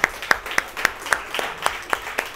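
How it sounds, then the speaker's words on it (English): Clapping for a group of family members being praised, heard as a steady run of evenly spaced, sharp claps, fairly close and regular, with soft background noise between them. "a loud applause to all of you"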